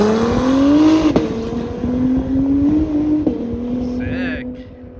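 An Acura NSX pulls away outdoors, its engine note rising and shifting through revs before fading into the distance, with people talking nearby.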